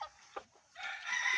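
A wild red junglefowl rooster crows close by in a drawn-out call, preceded by a brief cluck and soft rustling.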